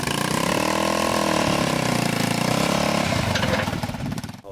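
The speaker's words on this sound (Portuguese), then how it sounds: "Esse trator também é feito pelo professor Pardal de São Simão. É movido a gasolina e junta o motor de moto com câmbio de Fusca." A homemade gasoline tractor built from a motorcycle engine and a Volkswagen Beetle gearbox runs at a steady, buzzy idle close by, its engine throbbing evenly before sputtering and fading near the end.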